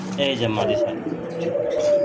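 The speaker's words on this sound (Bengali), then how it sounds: "লাল একজোড়া বোম্বাই কবুতর আমরা ছেড়ে দিই ডিসপ্লেতে" A pair of red Bombay pigeons released for display give soft, repeated throaty coos up close while people talk nearby.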